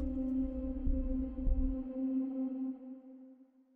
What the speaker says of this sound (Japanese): 何かが忍び寄ってきてる感じのね 怖い低音を入れました